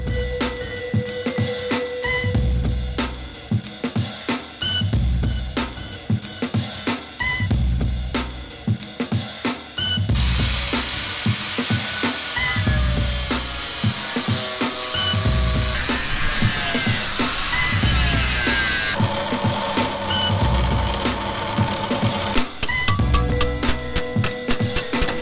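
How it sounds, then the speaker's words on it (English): A sandblaster blasts a piece of metal clean for an engine sump baffle, a loud continuous hiss close by with rough, uneven bursts throughout and no voices. "Dad's just sandblasting the piece of metal so it's nice and clean."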